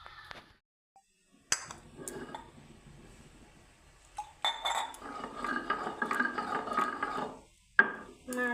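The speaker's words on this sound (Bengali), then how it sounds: "অল্প সময় হতে হতে আমি সরষাটা বেটে নিই" Mustard seeds with a little salt being ground on a stone slab (sil-pata), giving a rough gritty scraping and clinking stone against stone, quiet at first, then a steady, louder grinding run in the middle, with no talk.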